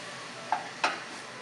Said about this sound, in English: coat the vegetable with the masala